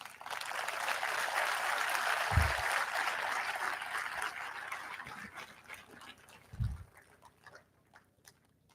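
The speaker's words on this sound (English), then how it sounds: "एक coordinated round of applause for each other जोर से बनता है" An audience at a convocation gives a round of applause, a dense burst of clapping that swells and then gradually thins out, with a couple of low thumps.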